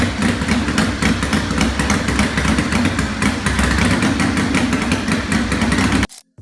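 A Harley-Davidson KR750 flat track racing motorcycle engine runs loud and close with a steady, throbbing pulse that holds for about six seconds before cutting off abruptly.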